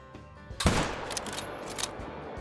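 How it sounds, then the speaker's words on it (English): Rifle shot at a whitetail buck while hunting in Call of the Wild, a single loud sharp crack followed by a long rolling echo that fades away across open country. "So I think we're gonna get ready and go for a shot."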